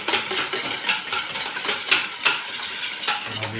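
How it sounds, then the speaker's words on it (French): Fromage blanc beaten in a bowl, a steady run of quick scraping, stirring strokes with light clinks of the utensil against the dish, close and fairly loud throughout with no talk. "On le bat, tout simplement. On remue bien,"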